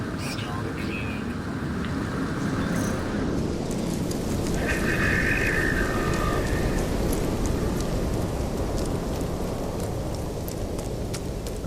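Steady rain pours through a No Man's Sky survival-mode storm, a dense even hiss with faint low rumbles that holds at the same level throughout, with a brief tonal game chime partway in and no talking.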